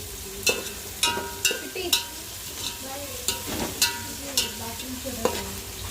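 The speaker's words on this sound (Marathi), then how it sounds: "आता याची थोडीशी हळद टाकली म्हणजे लवकर कांदा कोंबतो त्याला चांगलं लाल भूसर परतायचं" Onion with turmeric and ginger-garlic paste sautéing in a pan for paneer biryani, a steady sizzle punctuated by regular sharp spatula scrapes and taps on the pan, close, with no talking.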